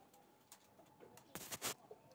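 Old Ferozpuri pigeons coo softly in low, throaty bursts, with rustling and fluttering nearby and a louder flurry partway through.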